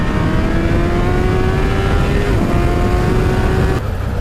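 A 2017 Honda CBR1000RR Fireblade SP1 sportbike accelerating hard in a drag race, its loud high-pitched engine note climbing steadily, briefly dipping at a gear change, then rising again before cutting off.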